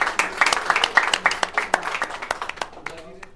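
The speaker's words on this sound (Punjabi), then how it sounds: "ਇੱਕ ਵਾਰ ਜ਼ੋਰਦਾਰ ਤਾੜੀਆਂ ਹੋ ਜਾਣ" A crowd applauds at a salon's grand opening in Mohali, with a burst of dense clapping that thins out and fades within a few seconds, and voices talking underneath.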